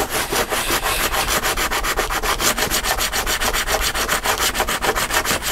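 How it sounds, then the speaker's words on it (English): Glue is scraped off a craft cutting mat in quick repeated strokes, a close, raspy scratching that pulses in a fast, fairly even rhythm of about four to five strokes per second, with no talk. "let me scrape that glue off there really quick"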